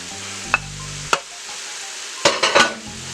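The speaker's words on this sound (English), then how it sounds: "Alright guys, so we're going to add our ground beef to the mixture. Going to chop it up in there." Ground beef being chopped and browned in a power pressure cooker pot, with sharp scraping and tapping strokes of a utensil against the pot over a low intermittent sizzle, a few quick stirs near the end.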